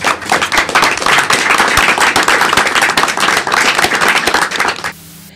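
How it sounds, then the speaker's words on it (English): Applause from an audience, sharp, close claps forming a loud, busy patter that runs steadily and then stops abruptly near the end, leaving a quiet room tone. "we should give them a round of applause"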